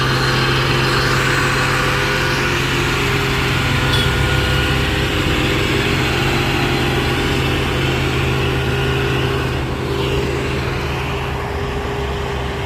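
Heavy traffic on a hillside road, with a trailer truck's engine droning and rumbling continuously nearby under a dense, steady wash of vehicle noise.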